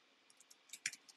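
Quiet, scattered keyboard clicks on a computer keyboard, a handful of light taps with a brief cluster near the end, soft and close with no talking.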